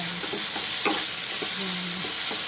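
Shrimp paste (alamang) sautéing in a pan for mung bean stew, a loud constant sizzle broken by several scraping stirs of a utensil against the pan.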